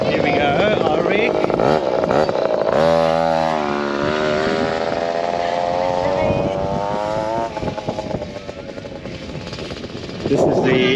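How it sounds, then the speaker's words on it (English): 50cc pit bike ridden by a child on a motocross track, a loud, close engine buzz that rises and falls in pitch as it revs, with a voice heard over it. "it's a 50cc pit bike, so he's going pretty good for his first time"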